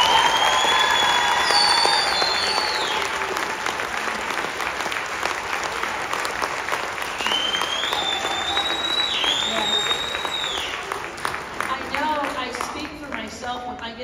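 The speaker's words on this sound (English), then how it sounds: "Please give these wonderful teachers a round of applause." Audience applause for teachers at an elementary choir festival: sustained, dense clapping from a large crowd, loud at first and tapering off, with voices and cheers mixed in.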